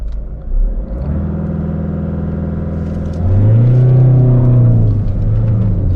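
A 2020 Honda City BS6 automatic sedan accelerating in first gear, its engine holding a loud steady drone inside the car before rising into a stronger revving pitch and easing off.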